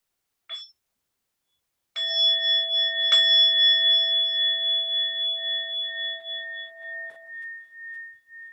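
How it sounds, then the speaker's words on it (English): A meditation bell closes an hour-long sitting session with a brief tap followed by a clear strike whose pure tones hang and slowly decay over several seconds, with a soft extra touch during the fade, in otherwise silent surroundings. "with the sound of the bell, we'll bring this meditation to an end"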